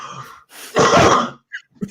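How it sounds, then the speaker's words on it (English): A person coughs during a live show: a harsh, close burst with a short lead-in breath, followed by a couple of small throat sounds and no speech. "Now I'm coughing."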